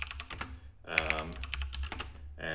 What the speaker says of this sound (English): I got a new keyboard as well, so it's a little clickier than I've had it before, and I'm not really good at typing on it yet